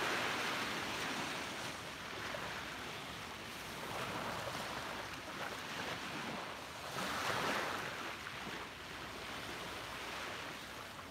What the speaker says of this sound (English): Soak in the sounds of these waves